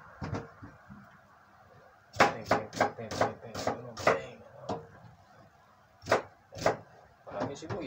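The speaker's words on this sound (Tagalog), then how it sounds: "Slice natin yung sibuyas." A knife slicing onions on a cutting board at home, a run of sharp, close chopping knocks in quick bursts separated by brief pauses, with quiet talk around them.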